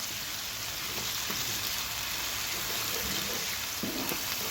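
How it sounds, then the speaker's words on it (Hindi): Ginger garlic paste frying with onions in hot oil gives a steady, even sizzle and crackle that runs unbroken throughout, close and fairly loud with no talking. "अब हम इसमें अदरक और लहसुन का पेस्ट ऐड कर देंगे और अच्छी तरह से इसको फ्राई कर लेंगे।"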